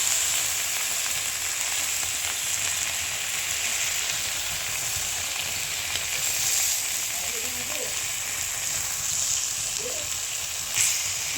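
Mourola fish wrapped in banana leaf, prepared as paturi, fries in a pan with a steady, close, continuous sizzle and occasional small crackles and a soft clink, lasting the full stretch.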